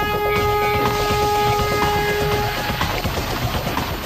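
A launched roller coaster train runs loudly on its track during night-time test launches, a sustained rushing roar with a steady high tonal whine that fades partway through.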